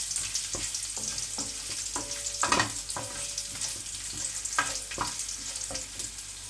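Whole red chilies sizzle and fry in a hot pan on a low flame, a continuous crackle broken by sharper pops and stirring clatters.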